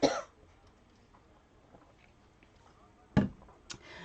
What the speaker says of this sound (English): I'm going to have a coughing attack now.